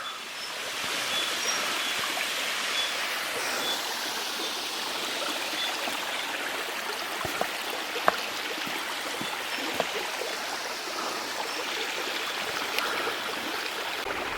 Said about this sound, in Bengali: ঝর্ণাটা আসলেও বিপজ্জনক